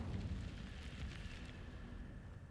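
Incendio fire spell cast in a Harry Potter video game, a loud continuous roaring, crackling rumble of flame that holds steady for a few seconds and tapers slightly at the end.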